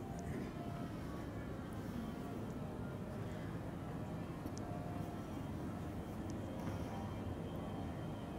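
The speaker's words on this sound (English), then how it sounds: "Jet engine noise." A steady, faint roar of jet engines drones on without a break, broad and rumbling as if heard from some distance.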